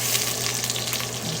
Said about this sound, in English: So I'm gonna add our onions in there. Let them saute a bit.